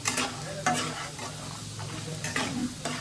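Peanuts frying in hot oil for lemon rice, a continuous close sizzle with intermittent scraping and stirring from a spoon in the pan.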